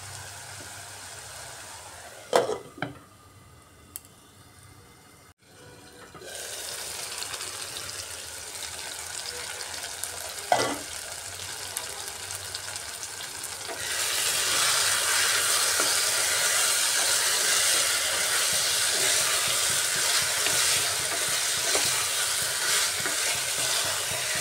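Boneless chicken frying in a pan over a raised gas flame for a chickpea ghugni, a steady sizzle that swells into a louder, dense hiss partway through, with a few clanks of utensils at the start.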